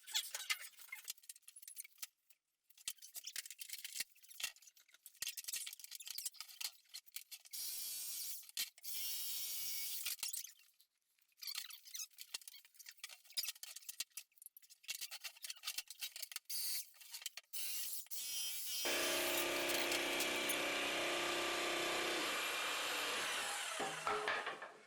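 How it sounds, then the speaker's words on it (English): Hand saw cutting plywood for a leopard gecko terrarium build, heard as bursts of rhythmic rasping strokes broken by short pauses, then a steadier, louder stretch of sawing toward the end. "I realized as I was cutting the plywood, I was getting a lot of splintering"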